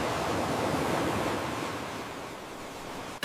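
Ocean waves roll in a continuous broad wash of surf, loud and steady with a slight fade toward the end, and no voices or other sounds above it.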